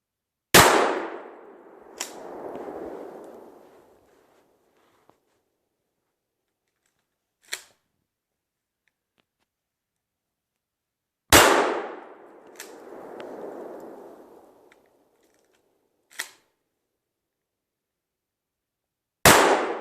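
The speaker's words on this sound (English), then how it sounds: "now we're going to try the 7/8 ounce slug. High velocity Remingtons, 1800 feet per second." Shotgun slugs, 7/8 ounce high-velocity Remingtons, fired at Jeep axle parts outdoors: a sharp loud blast, then a rolling echo, repeated with about five seconds between shots and brief metallic impact cracks in between.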